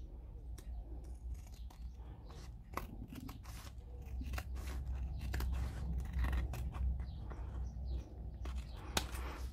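Scissors snip along the edge of a handmade glued and bound book, a series of close, crisp cutting crunches at an uneven pace, quiet and without talk.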